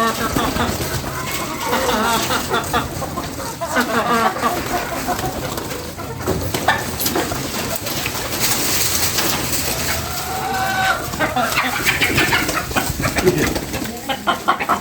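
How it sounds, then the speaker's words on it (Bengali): Pigeons coo repeatedly on a tin roof over a steady, noisy background, with voices murmuring at times among the soft, throaty calls. "এখন দেখতে পাচ্ছেন সবগুলো কবুতর"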